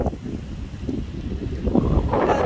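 Steady wind rushing and buffeting on a seaside beach under black clouds, a broad low roar that swells slightly toward the end, with no voices.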